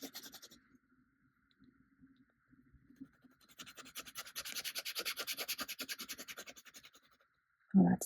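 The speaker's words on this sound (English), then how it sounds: "You may notice I do turn the handle of the Kakimori brass nib as I'm swatching" A Kakimori brass dip nib scratches softly across paper while ink is swatched, the handle turned as it goes, giving faint intermittent scrapes that build into a steadier, louder rasping run of strokes before a brief louder knock at the end.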